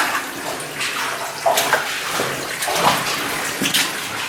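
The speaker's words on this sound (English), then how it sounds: "The running water's coming down the side there." Running water pours steadily down the side of a dammed-up passage inside an old, dangerous mine adit, a loud, continuous rushing and splashing with no talk over it.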